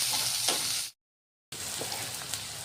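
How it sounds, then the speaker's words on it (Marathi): Chopped onions frying in hot oil in a pan for a dill greens vegetable dish, a steady close sizzle that cuts out briefly to silence, then resumes with soft stirring noises. "हे कांदे छान उगू द्यायचे"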